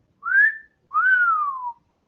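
A person imitates a wolf whistle: two clear whistled notes, a short rising one and then a longer one that rises and falls away, close and alone.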